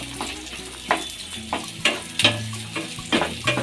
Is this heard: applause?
no